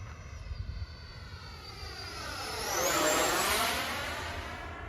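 A Freewing F-14 64mm EDF RC model jet comes around to land, its ducted-fan whine rising and sweeping as it passes close overhead at the midpoint, then fading away, with a steady rushing hum throughout.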